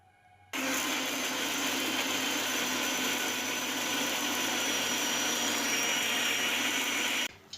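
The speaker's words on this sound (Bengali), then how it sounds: "এবার আমি এটাকে বেটে নেব" An electric mixer grinder whirs steadily for about seven seconds as it grinds a wet spice paste for a green-style rohu fish curry. The motor starts abruptly, runs at an even, loud pitch, then cuts off.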